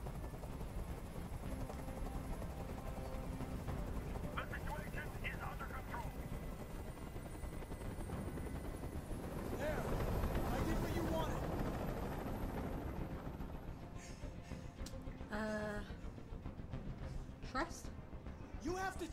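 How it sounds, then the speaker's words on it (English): Steady rotor drone of a hovering helicopter in the video game Detroit: Become Human fills the whole stretch, loud and continuous, with voices talking over it. "I can't stand that noise anymore. Tell that helicopter to get out of here."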